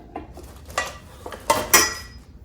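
Brand-new skillets from a cookware set knocked and set down during unboxing, a few sharp metallic clanks with a ringing tone, close and fairly loud, with no talking.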